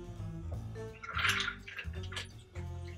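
Cool tap water poured from a cocktail shaker into a glass, splashing and gurgling in a short burst midway over a low steady background hum.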